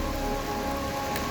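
Rain falling steadily during a monsoon trek in Sikkim, a dense, even hiss of drops with no voices or breaks.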